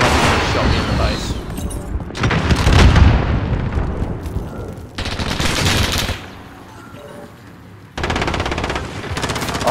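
Video game shooter gunfire: loud bursts of automatic fire and booming explosions in several separate volleys, with quieter gaps between them.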